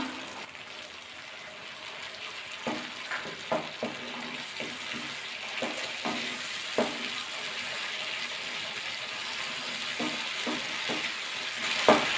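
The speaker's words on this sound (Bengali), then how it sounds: "মশলার বাদে আজ একটু জল দিলাম" Spice paste with a little added water sizzling and being stirred in a pan while cooking Bengali fish rezala with katla fish, a steady low fry with scattered scraping and clinking stir strokes, fairly faint, no talk.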